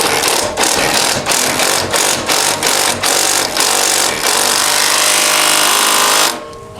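A tool tightens lift-kit bolts on a CFMOTO CForce 600 ATV. It starts as a run of sharp, rhythmic ratcheting bursts, then settles into a continuous loud buzzing spin before stopping abruptly near the end.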